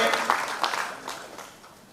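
Applause from an audience at a film-industry event in India, a brief wash of clapping that starts moderately loud and fades away over about two seconds.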